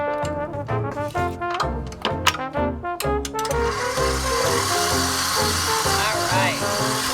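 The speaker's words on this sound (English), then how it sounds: "We're going to turn this on and mix until it's combined." An electric mixer creams moon pie batter in a bowl, starting with uneven bursts and settling into a steady, continuous whir at close range.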